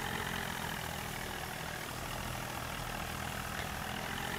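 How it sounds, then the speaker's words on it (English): Tractor engine from the Farming Simulator 19 video game, a steady droning idle with a low rumble that holds constant and fills the whole stretch without talk. "it becomes louder because of the tractor"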